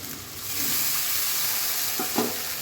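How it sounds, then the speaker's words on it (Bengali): Spice paste of ginger-garlic with green chilies and a splash of water fries in a pan with a steady close sizzle and hiss, with a couple of brief stirring scrapes near the end. "মশলাটা খুব ভালো মতন কষিয়ে নিব"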